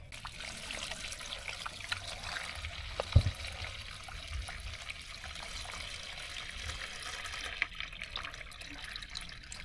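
Water is poured into a tray beneath a plant pot holding a taro-like ornamental plant, a soft steady trickle and dribble close by, with an occasional knock from handling.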